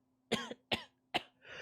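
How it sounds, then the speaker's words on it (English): A woman coughs violently in three sharp, close bursts spaced evenly apart, the last trailing off into a breathy rasp, with no talk. "you watch as she begins to cough violently"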